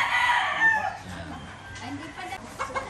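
A bulik gamefowl rooster crows once, close and clear, at the start, followed by softer farmyard background.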